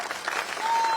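A large crowd at a political rally in Patna's Gandhi Maidan claps loudly and continuously, dense applause filling the whole second.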